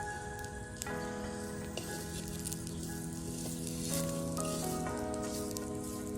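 Beef fry sizzles softly with fried chilies and curry leaves, a quiet continuous crackle under sustained background music tones, with a few light stirring clicks.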